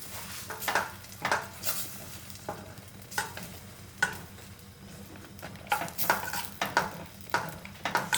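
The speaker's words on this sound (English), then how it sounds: "And we're just gonna stir this up like this." A spoon stirring shrimp mac and cheese sauce in a pot over low heat: repeated scraping strokes against the metal in an irregular rhythm over a soft, continuous simmering sizzle, close up and without talking.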